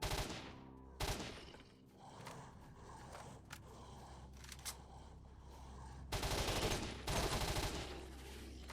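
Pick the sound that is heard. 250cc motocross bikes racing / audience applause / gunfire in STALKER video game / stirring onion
gunfire in STALKER video game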